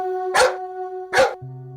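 A dog named Tommy gives two sharp, loud barks about a second apart, close by, over a steady tonal musical drone.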